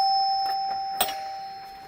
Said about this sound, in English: That's my doorbell. I added that.